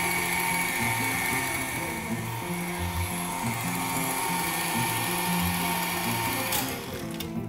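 An electric mixer whirs and grinds through cupcake batter, a dense steady mechanical drone with shifting gear-like tones, loud and close, ending with a brief clatter near the end.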